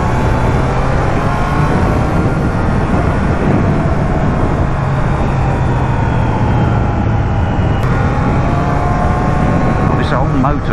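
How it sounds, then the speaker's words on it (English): An old motorcycle engine on its original standard exhaust holds a steady, loud drone at speed, with a constant low engine hum and heavy wind rush throughout, apparently from a helmet camera, with no talk over it. "This old motor doesn't half sound nice when you get it up to cooking speed"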